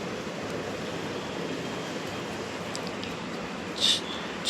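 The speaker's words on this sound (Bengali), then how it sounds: "বর্ষাকাল না, বর্ষার জল পড়ছে।" Steady monsoon rain falling outdoors near a home garden, a soft continuous hiss with an even, unbroken texture, fairly faint, with one brief brighter tap near the end.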